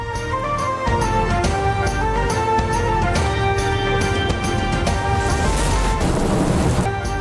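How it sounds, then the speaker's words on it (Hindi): Heavy monsoon rain pours down in Karachi, a dense, steady roar with a broad wash of noise throughout and no voices. "आज सुबह होने वाले बारिश से शहर कायद में जारी हब्स और गर्मी का मौसम खत्म"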